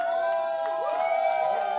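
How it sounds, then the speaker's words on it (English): An audience at a StarCraft II finals esports event cheers and whoops loudly and continuously, with a commentator's voice running over the din. "The crowd is still wild"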